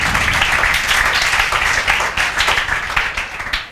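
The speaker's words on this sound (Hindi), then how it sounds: "तालियां बजाओ" Students in a classroom clap together in a dense, steady burst of applause that fills the room, loud and close, tapering slightly toward the end.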